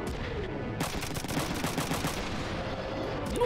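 Rapid bursts of gunfire from the video game FM3, a dense clatter of shots in quick succession running steadily through the whole stretch over constant in-game background noise.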